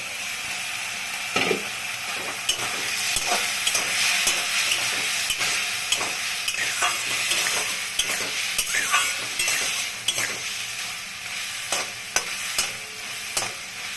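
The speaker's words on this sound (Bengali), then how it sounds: "চিংড়ি মাছটা ভেজে নিব ভালো করে" Prawns fry in a pan with a little oil, the lid just lifted. The result is a loud, continuous sizzle broken by repeated scraping stirs and sharp clinks from the utensil, with no voices.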